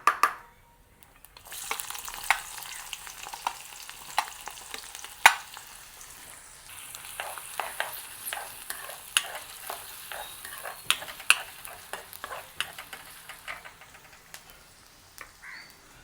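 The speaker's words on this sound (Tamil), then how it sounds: "எண்ணெய் வந்து சூடாகிடுது. கொஞ்சமாக கடுகு சேர்த்துக்கொள்ளுவோம். கொஞ்சமாக பெருஞ்சீரகம், வெங்காயம் வந்து அளவாக சேர்த்துக்கொள்ளுவோம்" Mustard seeds, fennel and onion fry in hot oil, the sizzle rising sharply after a quiet start and continuing with crackles and stirring scrapes, then easing toward the end.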